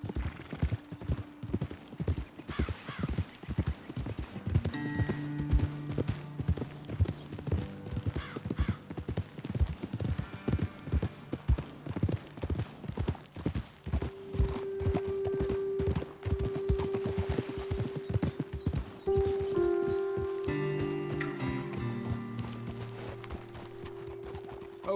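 Steady clip-clop of horse hooves trotting at a brisk rhythm for a long stretch in Red Dead Redemption 2, with occasional whinnies and a sustained musical tone joining later.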